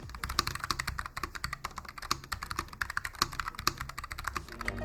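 A NuPhy Air75 low-profile mechanical keyboard with factory-lubed switches is typed on at a brisk, even pace, giving crisp, close clacks with nothing else behind them.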